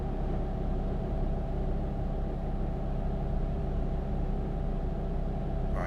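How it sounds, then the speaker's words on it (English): A steady, low truck engine drone in Euro Truck Simulator 2 hums continuously with a rough, laboring rumble, even and unbroken, with no voices. "The engine still doesn't sound particularly happy though as it's going along."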